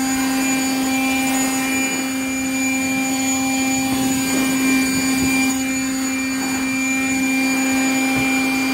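A leaf blower blasts dust off a Cadillac XT5 engine bay, a loud continuous whining roar with a steady high tone that holds throughout without pause.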